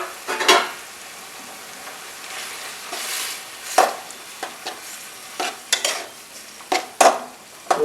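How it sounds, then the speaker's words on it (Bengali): Bottle gourd greens with poppy seed paste stirred in a pan, a soft sizzle beneath irregular scrapes and clinks of a spatula against metal, close up with no talk. "পোস্তটা দেওয়ার পরে আমরা একটু নাড়াচাড়া করে নামিয়ে নেব।"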